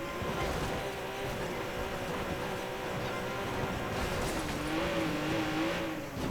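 A car engine in Watch Dogs 2 drones steadily under continuous game sound, its pitch rising and wavering toward the end as the car revs.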